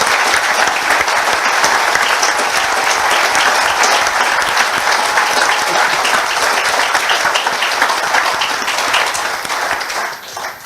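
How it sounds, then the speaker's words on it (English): Audience applause after a speech on decolonisation and self-determination, steady dense clapping filling the room for about ten seconds before thinning out at the end. "can I just give them a round of applause"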